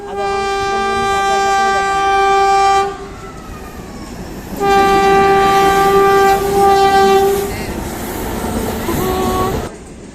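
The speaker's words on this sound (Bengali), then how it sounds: "তাড়াতাড়ি চলে আসলো ট্রেনটা" A Radhikapur–Siliguri DEMU train arriving at Kaliyaganj station sounds its horn in two long, loud, tonal blasts, the second longer and wavering, over a low rolling rumble of the train.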